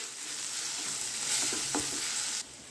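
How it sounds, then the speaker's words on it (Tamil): Tomatoes sautéing in a pan for Tamil ridge gourd kadayal give a steady close sizzle with brief stirring scrapes, then the frying noise drops slightly near the end. "தக்காளி நல்லா மசிகிற அளவுக்கு வதக்கி எடுத்துக்கலாம்."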